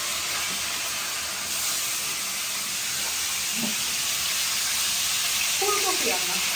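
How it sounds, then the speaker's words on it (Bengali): Fresh fish fry in a pan with a steady, broad hissing sizzle that runs throughout, joined by faint clinks and a voice near the end. "এদিকে মাছ কাটা হচ্ছে, এদিকে মাছ ভাজা হচ্ছে।"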